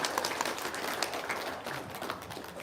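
Steady applause from a group of people, a dense continuous patter of clapping at moderate volume that holds evenly from start to finish with no talking.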